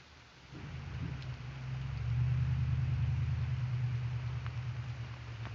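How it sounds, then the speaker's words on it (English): A spring thunderstorm with rain, heard as a low, steady rumble that builds after the first second and holds as a sustained roll under a soft hiss of falling rain, with no talking. "That's what thunderstorms are like today."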